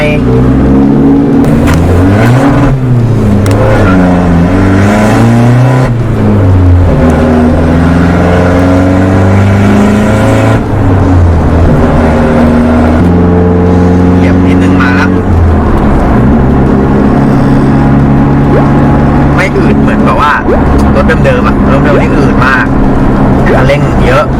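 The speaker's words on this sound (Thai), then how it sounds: "อันนี้เดี๋ยวเรามาดูกันว่า ขับใช้งาน โอเคไหมคันเร่งดีขึ้นไหม แล้วซิ่งจะเป็นยังไง" A tuned car on a test drive in southern Thailand accelerates hard, its engine climbing and dropping through the revs in repeated sweeping pulls. Someone talks over the loud, close engine throughout.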